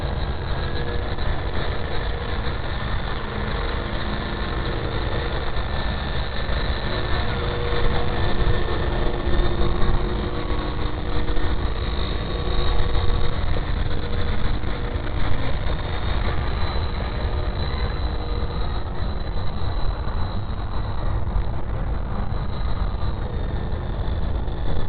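A large Wtoys V913 RC helicopter flies outdoors in strong wind, giving a steady whirring rotor drone mixed with broadband wind rumble that runs continuously for the whole stretch, with no talk.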